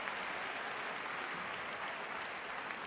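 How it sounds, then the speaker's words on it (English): Steady, continuous audience applause fills a figure skating Grand Prix arena at the Grand Prix de France, a dense, even wash of clapping that holds without a break. "Brandon Fraser leading the applause there."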